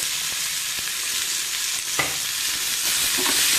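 Garlic and chili frying in oil for chitranna, a dense steady sizzle with a few sharp ticks and a spatula knock partway through, close by and without speech.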